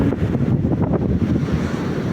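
Wind buffets the microphone at Bay Bay Boulevard by the sea, a loud, continuous rumbling roar with gusty swells and no voices.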